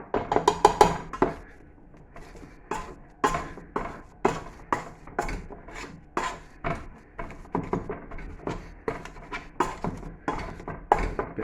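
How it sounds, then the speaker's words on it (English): Chickpeas being mashed by hand as a mashed-potato alternative, a series of close, dull thumps and scraping knocks from a masher against a bowl, irregular but steady, with no talking. "Bit boring watching me mash something"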